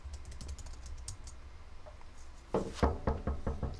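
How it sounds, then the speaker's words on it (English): Someone types a name and password on a computer keyboard to log in, with faint scattered key clicks first and then a louder, closer burst of quick taps at the end. "So I type in my name and I type in my password."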